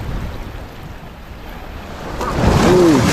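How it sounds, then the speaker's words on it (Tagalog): Rushing ocean surf at high tide swells louder toward the end as a large wave crashes in, with wind buffeting the microphone throughout. "Grabe laki ng alon"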